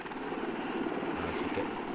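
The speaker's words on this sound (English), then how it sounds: "There's our little happy chopper." A helicopter in the video game Arma 2 drones steadily, a dense rotor and engine roar held at constant loudness for a couple of seconds, with no talk.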